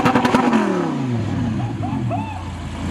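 An Audi R8 V10 fitted with an ARMYTRIX titanium exhaust revs and then drops back, its engine note sweeping downward loud and close, with light crackle afterward.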